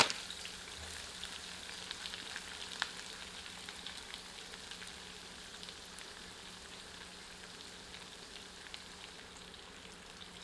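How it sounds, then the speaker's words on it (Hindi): Onions fry in a pan over medium heat for a mutton curry, giving a steady, soft sizzle and crackle that stays even throughout with no talking. "इसे मध्यम आंच पर तब तक भूनते हैं जब तक कि यह सुनहरे रंग में परिवर्तित नहीं हो जाती।"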